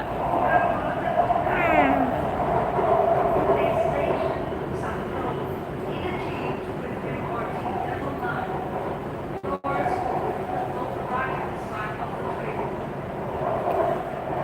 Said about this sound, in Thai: วันนี้อยู่บนรถไฟฟ้า